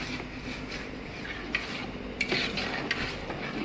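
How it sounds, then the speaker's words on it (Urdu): Spoon stirring and mixing spinach and potato curry gravy with ginger paste and tomatoes in a pan, a soft steady scraping with faint sizzle and a few light clinks, quiet and without talk. "ایسے مکسنگ کرنی ہے۔"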